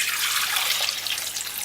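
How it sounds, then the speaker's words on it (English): Brown rice is rinsed under running water, a close, loud, steady splashing and trickling without pause. "you just put to rinse. Just wash it."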